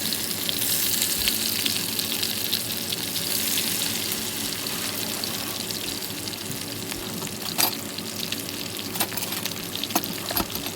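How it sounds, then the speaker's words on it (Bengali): Koi fish frying in oil, a loud steady sizzle and crackle close up, easing slightly over time with a few sharp clicks near the end. "তেল ভালোভাবেই দিতে হবে পর্যাপ্ত পরিমাণে যাতে মাছগুলো সুন্দরভাবে ভাজা হয়"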